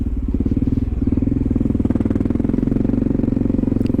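A motorcycle's V-twin engine runs steadily up close with a loping, uneven pulse, loud and without any voices.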